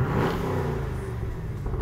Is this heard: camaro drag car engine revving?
yes